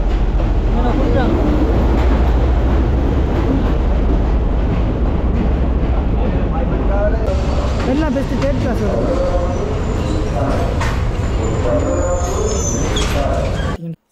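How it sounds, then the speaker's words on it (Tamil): A passenger train in Sri Lanka, on a line through elephant forest, rumbles and clatters loudly and continuously as it runs, while people talk nearby over the rail noise. "இப்போ ட்ரெயின் வந்துட்டு"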